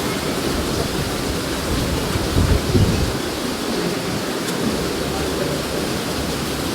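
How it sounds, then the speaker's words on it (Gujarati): Heavy rain pours down during a windstorm in Ahmedabad, a dense continuous roar of downpour with low rumbling gusts, loud and steady throughout with no voices. "વાવાઝોડા સાથે વરસાદ આવી રહ્યો છે ભરપૂર."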